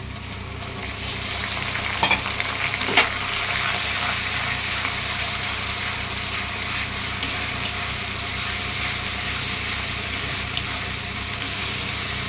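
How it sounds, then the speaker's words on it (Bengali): Onion paste frying and being stirred in a pan for a chicken dish, a steady loud sizzle running throughout with occasional scrapes of the spoon and no talking. "পেঁয়াজ বাটাটা একটু ভাজা ভাজা হবে।"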